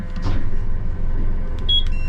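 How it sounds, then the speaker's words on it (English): A few short, high electronic beeps from a boat's controls sound near the end over a steady, loud engine rumble on a 2033 Stabicraft boat. "See that beep beep?"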